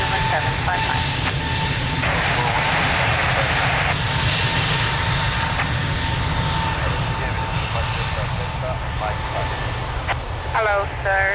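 A jet airliner's engines roar steadily and loudly on the runway at Lisbon Airport during takeoff, a continuous heavy drone with air traffic control radio voices talking over it.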